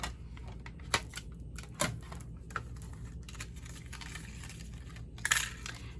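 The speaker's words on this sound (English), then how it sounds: "we will get a die cut and embossed butterfly" A die cutting and embossing machine presses a paper butterfly, producing a dense, grinding mechanical crunch with several sharp clicks and thumps along the way; no one speaks.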